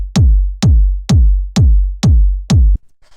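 An electronic kick drum in a dark atmospheric techno track hits six times at an even, quick pace. Each loud, punchy thump decays into a deep boom, with nothing else playing.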